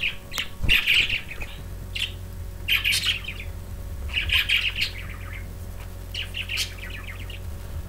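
Pet budgies wake in the morning indoors, giving bursts of bright chirps, squawks and warbling calls every second or so over a steady low hum, fairly close and lively.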